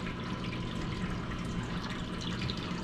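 Water turned back on and running into an Ice-O-Matic ice machine during cleaning, a faint, steady trickling and splashing with no voices.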